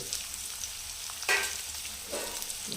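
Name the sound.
onions and green chillies frying in a pan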